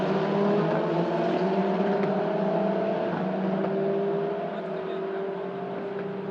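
Single-seater race cars racing at Magny-Cours, a sustained high engine whine from several cars passing and accelerating, loud and continuous, with faint trackside commentary beneath.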